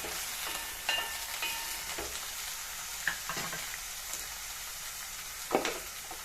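Drumstick pieces sautéing in a pan for sambar give a steady sizzle, with several scraping stirs and occasional clinks of a spoon against the metal. No one speaks.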